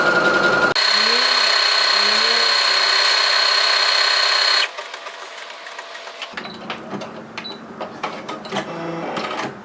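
A Brother SE400 embroidery sewing machine, once stuck in reverse, runs in a loud steady whir for several seconds, then stops and gives way to quieter mechanical clicks and ticks.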